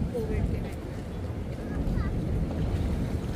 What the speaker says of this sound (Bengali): ওইখানে হচ্ছে যে স্পিড বোর্ড আসছে না তার জন্য অনেক বেশি ঢেউ হচ্ছে